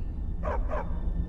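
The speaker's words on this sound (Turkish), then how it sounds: "Havlama sen de Barbas" The dog Barbas in Skyrim gives two quick, mid-distance barks in close succession over a low steady background hum.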